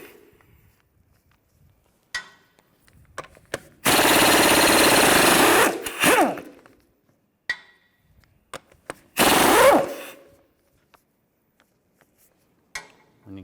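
Power impact tool spinning lug bolts off a wheel of a 2007-2013 Mini Cooper with a 17mm socket, two loud sustained buzzing bursts of a few seconds each, close up, with scattered clicks and clunks between them.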